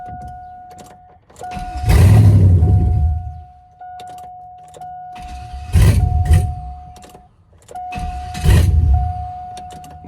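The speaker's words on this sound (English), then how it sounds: "it won't start, but it is wanting to" A GMT800 Chevrolet Silverado tries to start and fails: three bursts of starter cranking, each lasting about two seconds, separated by pauses filled with a steady electrical whine. The cranking is close and loud.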